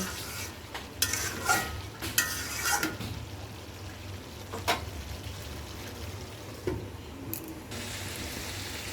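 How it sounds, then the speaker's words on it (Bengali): Meat being fried and stirred in spices in a pot, with repeated scraping strokes of a spatula over a steady sizzle, up close and with no talking. "আমি এই জলে মাংস ভালো করে কষায় নেব ঢাইকা ঢাইকা।"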